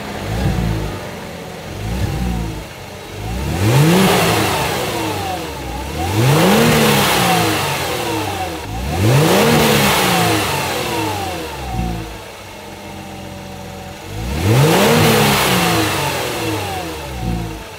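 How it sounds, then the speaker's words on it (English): A Kia Stinger 3.3T engine revs up and drops back several times in a row, loud and close, with short whooshing bursts from the OEM blow-off valves as each rev falls away. "I'm gonna rev it up a little bit, try to see if we could hear the OEM blow-off valves"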